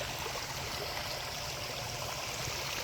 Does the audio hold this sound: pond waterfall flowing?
yes